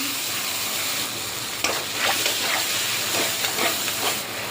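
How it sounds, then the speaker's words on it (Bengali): Ground pointed gourd seed paste drops into hot oil in a pan, starting a steady hiss that turns into crackling, spitting sizzle with a few sharper pops, heard up close without talk. "এবার এই তেলের মধ্যে এই যে পটলের বীজগুলো বেটে রেখেছিলাম, এই পটলের বীজগুলো দিয়ে দিলাম"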